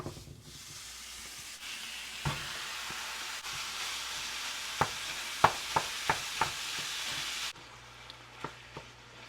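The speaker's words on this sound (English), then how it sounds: "Let's start by browning some ground beef." Ground beef browning in a pan for meaty baked beans, a faint continuous sizzle and hiss broken by a few sharp taps and scrapes.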